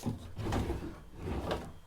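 Wooden drawers being opened and closed in a messy, furniture-filled room, two soft sliding scrapes with light knocks, fairly faint and close, with no talking.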